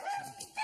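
A dog barks in short bursts at people passing by outdoors, with a couple of sharp, fairly close barks separated by a brief pause.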